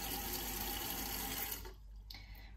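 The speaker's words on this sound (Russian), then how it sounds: "Заливаем воду." Water gushes steadily into a mixing tray for plaster casting, a loud close rush that thins and quiets near the end.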